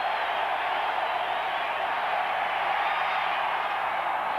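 A football stadium crowd roars steadily at a 49ers home game against the Denver Broncos on third down, a dense broadband wash of cheering that stays loud and unbroken throughout.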